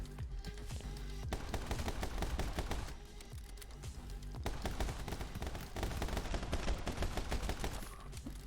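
Rapid automatic gunfire from the video game My Friend Pedro on Nintendo Switch, dense bursts of shots in long loud volleys with brief gaps between them.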